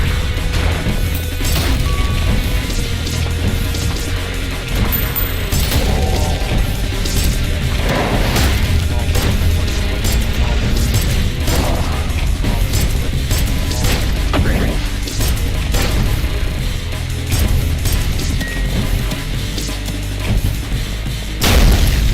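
Video game explosions and heavy crashes come as loud booming impacts and smashes, repeated at irregular intervals over a dense, roaring background of game noise.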